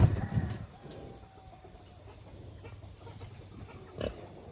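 A pig grunts on an off-grid homestead, a few low rough bursts up close at the start and again briefly near the end, with quiet farmyard ambience and faint bird sounds between.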